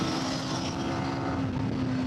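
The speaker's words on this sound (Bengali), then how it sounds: "আমাদের ইঞ্জিনের সাউন্ডটা ভাই একবার শোনো" A KTM Duke 250 motorcycle on a road near Canning drones loud and steady with a strong tonal hum, like a bike accelerating nearby as it pulls away.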